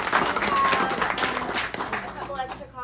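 Book club audience applauding an author, brisk clapping mixed with voices and chatter, fading toward the end.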